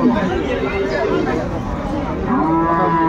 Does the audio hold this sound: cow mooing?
yes